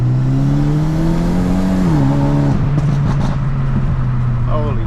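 A car fitted with a 54mm hybrid turbo accelerates hard, its loud, close engine droning steadily before the pitch dips and wavers as the drive falters.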